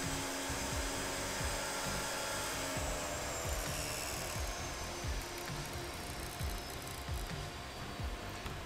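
A table saw cutting a wooden castle joint in a clamped jig, giving a steady, loud, close whine and roar with faint rhythmic thumps beneath as the blade moves slowly through the wood.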